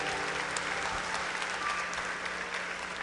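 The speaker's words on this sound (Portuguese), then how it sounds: "Dê uma salva de palmas para os papais que estão aí perto" A church congregation applauds the fathers, steady massed clapping from a crowd that continues evenly for the whole stretch at moderate volume, with a faint low hum underneath.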